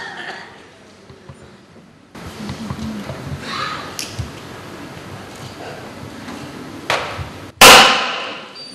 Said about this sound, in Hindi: और उसके पहले ये पटाखा।